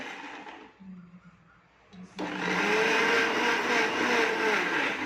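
A mixer grinder whirs loudly and steadily grinding spices after a short quiet stretch with a low hum, its motor droning on without pause.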